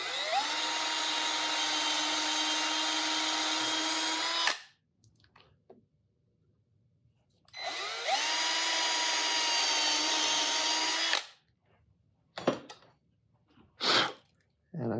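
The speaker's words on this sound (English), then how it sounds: "I've got a 1/8 of an inch drill bit in my drill, and I'm just going to drill 2 holes" A power drill fitted with a 1/8 inch bit bores two holes in guitar-building wood, two steady whirring bursts of about four seconds each separated by a pause, followed by a few faint knocks and handling sounds.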